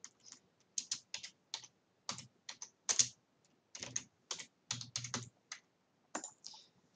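Computer keyboard keys clicking in short irregular bursts of typing, close and fairly quiet, with brief pauses between runs of keystrokes and no talking.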